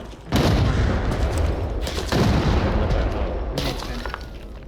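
Loud, booming blasts and rumbling gunfire-like bursts from the video game Arena Breakout: Infinite, near and dense, with a voice talking in the mix.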